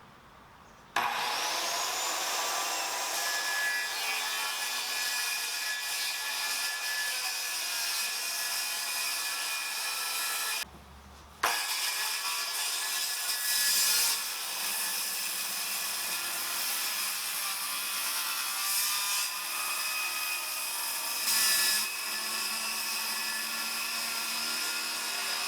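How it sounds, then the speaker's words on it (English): Power saw with its blade depth set just shy of the inner plywood layer, cutting through a teardrop camper panel; a steady loud whine runs for about ten seconds, stops briefly, then resumes for another long cut, with no talk. "I've got the depth of the saw to just shy of this inside plywood"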